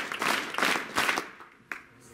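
An audience at a village gathering claps in a short, fairly close burst of applause that thins out after about a second, leaving a few scattered claps.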